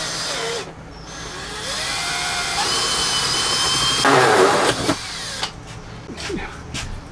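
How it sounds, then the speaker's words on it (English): Power drill driving self-tapping screws into a wall during a solar wiring install, repeated whining bursts that rise and stop, with louder grinding near the middle and short trigger pulls at the end, fairly close. "We'll just put this into the wall with self-tapping screws."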